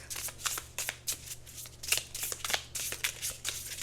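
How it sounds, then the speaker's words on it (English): A deck of tarot cards is shuffled by hand in repeated quick riffling bursts, each a crisp papery flutter, close and fairly quiet with a faint low hum behind. "I'm going to pull a card from this deck"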